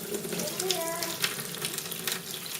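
A dirty dish is rinsed under a running kitchen tap, the steady spatter of water mixing with clinks and splashes while a voice speaks lightly in the background.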